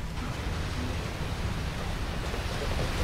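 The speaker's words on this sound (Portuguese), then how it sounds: "Tromba d'água!" Waterspout at sea in the video game Assassin's Creed Black Flag, heard as a loud, steady roar of wind and churning water with no break, close and enveloping, with no voices.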